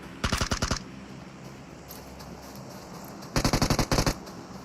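Automatic gunfire in the mobile battle-royale game PUBG Mobile: two rapid bursts of about seven shots each, loud and close, separated by a quieter stretch.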